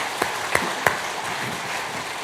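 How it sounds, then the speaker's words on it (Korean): A congregation applauds during a Sunday worship service in a church. The clapping forms a dense, continuous wash, with a few sharper individual claps standing out near the start. "박수 부탁드리겠습니다"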